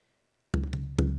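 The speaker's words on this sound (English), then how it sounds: "Okay, so I'm going to throw in a triplet for you." A bodhrán drum playing a triplet: after a brief silence, a few close, deep struck beats land in quick succession and ring with a resonant low body, played alone.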